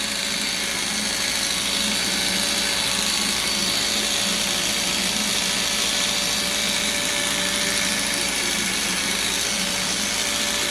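Electric hair clippers fitted with a 1.5 guard run continuously at close range while cutting a 12-year-old boy's hair, giving a steady buzzing drone with a sustained whine throughout.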